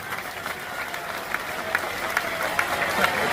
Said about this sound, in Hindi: इसलिए आपका जोरदार ताली बजा करके अब स्वागत करो।